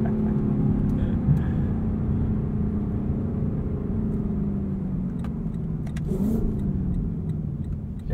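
A 2021 Lexus LC 500 coupe's engine rumbles steadily from inside the cabin, with the revs briefly rising and falling about two-thirds of the way through.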